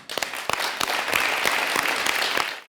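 Fake applause plays from a tape recorder on a comedy show stage: a burst of dense, fairly loud clapping with sharp individual claps standing out, lasting a few seconds before cutting off abruptly.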